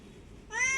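A cat gives one short, clear meow near the end after a quiet stretch, close and fairly loud.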